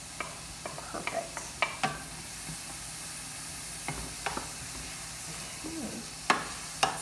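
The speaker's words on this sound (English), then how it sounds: "All right, it's starting to sizzle now." Onions and bell pepper sizzle in a pan for a crepe filling, a steady frying hiss broken by scattered clicks and utensil taps, fairly close with no talking.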